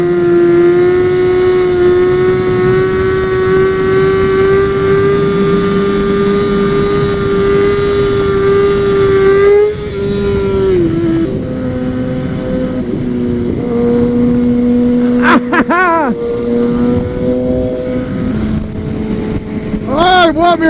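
A motorcycle ridden on the way to a stunt lot, its engine humming steadily and loud at close range, easing off and changing pitch midway before settling again, with wind noise and a few brief knocks.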